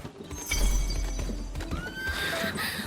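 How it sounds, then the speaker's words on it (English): A horse neighs in the video game Where Winds Meet, a loud whinny over clip-clopping hooves and game ambience, with no speech. "What a mighty horse!"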